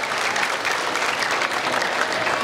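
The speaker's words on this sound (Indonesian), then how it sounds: "saya minta kita tepuk tangan meriah sekali lagi buat anak-anak kita" An audience applauding children at a school launch event, a dense, loud, steady wash of many hands clapping together from close by.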